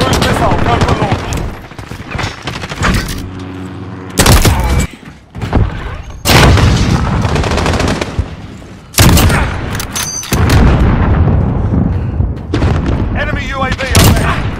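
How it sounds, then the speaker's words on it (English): Modern Warfare video game combat, with a cruise missile strike and bursts of automatic gunfire: loud booms and rapid repeated shots pile up densely throughout, with in-game voices calling out over the action. "Cruise missile, go for launch."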